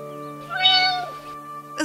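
A cartoon cat meows in an animated Bulgarian fairy tale about two cats and a monkey: one long, clear, drawn-out meow followed by a short second cry, close and alone.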